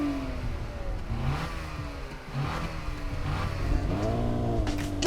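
A Toyota Camry TRD and a Honda Accord accelerate side by side in a drag race, engines revving hard through rising, stepped gear sweeps at moderate loudness, with no talking over them.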